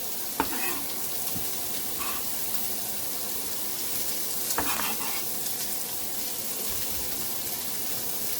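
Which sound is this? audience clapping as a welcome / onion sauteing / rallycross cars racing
onion sauteing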